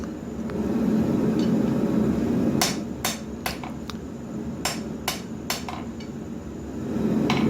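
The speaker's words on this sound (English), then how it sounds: "just trying to get it straightened back out from hitting it with that heavier hammer" A heavier hammer strikes a steel full-tang knife blank during forging, a series of sharp ringing metallic blows in uneven clusters over a steady background roar.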